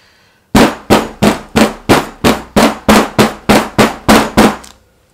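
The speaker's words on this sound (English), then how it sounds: "I'm going to bang it a little bit to make sure it all goes," A soap mould filled with melt and pour soap is banged on a hard surface about thirteen times in a quick, steady rhythm, each knock sharp, loud and close, with no talking.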